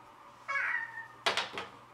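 A small child imitates a cat, giving a drawn-out meow followed by two quick, sharper meow-like cries, close and fairly loud in a quiet room.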